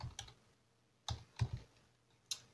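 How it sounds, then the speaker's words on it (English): A few sparse, quiet keystrokes click on a computer keyboard as a date is typed, short taps in small clusters with pauses between them. "And you type retrieved on today's date"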